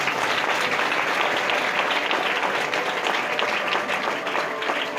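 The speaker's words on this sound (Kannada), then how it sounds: "ಎಲ್ಲರೂ ಚಪ್ಪಾಳೆ ಹೊಡೆಯೋಣ." Dense, continuous applause from a church congregation during a Christmas sermon, with many hands clapping at once for several seconds.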